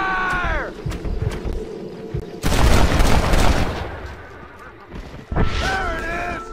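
Gunfire in the Red Dead Redemption video game, a dense, loud volley of shots that swells into a sustained roaring burst, then eases before another blast, with voices speaking at the start and end.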